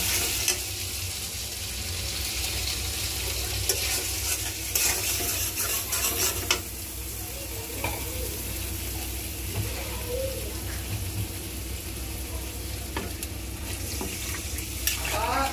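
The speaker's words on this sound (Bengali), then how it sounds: "তরকারি কষানো হয়ে যেতেছে। একটু মশলা কষাতেছি" Spices and curry being fried down and stirred in a pan, a continuous sizzle with scraping and clicking of the spoon throughout, fairly close, with no voices.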